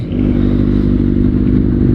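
A Kawasaki Ninja ZX-6R with its stock, high-mounted exhaust idles steadily, a loud close rumbling throb with a slight clattery edge that holds even throughout.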